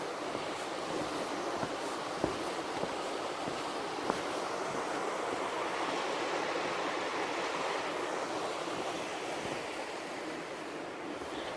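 The Nimpkish River rushes below a bridge in a steady, broad wash of flowing water, with a few faint clicks now and then and no voices.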